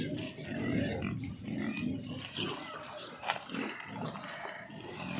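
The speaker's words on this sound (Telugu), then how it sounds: "ఇట్లా ఉంటాయి మా పందులు." Pigs on a village pig farm grunt and snuffle steadily throughout, close and moderately loud, with overlapping low grunts and occasional squeaky notes and no clear talk.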